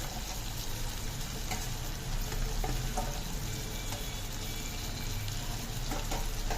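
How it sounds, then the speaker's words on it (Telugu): Potato and carrot pieces fry in a pan for kichidi, a steady close sizzling hiss with occasional stirring scrapes and no talk. "మనకి బంగాళదుంపలు, క్యారెట్ ముక్కలు వేసుకుంటున్నాం."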